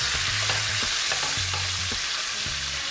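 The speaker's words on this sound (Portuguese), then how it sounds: "Eu já quero colocar essa cebola aqui." Onion rings fry in melted butter in a pan, giving a steady loud sizzle with intermittent stirring clatter and scraping, close up.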